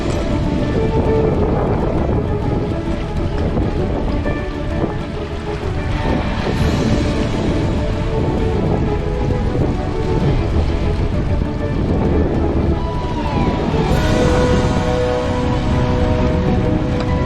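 Continuous rushing water and wind buffeting the microphone as a 20-foot Hurley 20 sailing yacht moves along, loud and steady with gusty swells.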